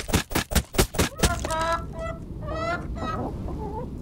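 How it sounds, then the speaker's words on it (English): Chickens in a farming horror video game cluck in a rapid run of loud, close pulses, followed by longer drawn-out squawking calls that fade toward the end. "Goddamn chickens are terrifying."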